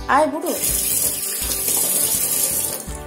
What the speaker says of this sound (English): And also add some water to it for making the paste.